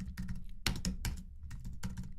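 Rapid PHP code typing on a computer keyboard, with clustered bursts of key clicks separated by short pauses, close and fairly quiet with no talking.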